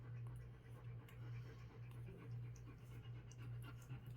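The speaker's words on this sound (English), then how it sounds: "You can hear my puppies in the background." Soft, rapid panting from puppies, steady and rhythmic in the background, with faint scratching noises here and there.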